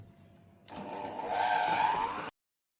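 Electric mixer whipping butter, sugar and salt for a banana cake batter, a close steady whirring drone that starts abruptly, rises in pitch and intensity, then cuts off cleanly.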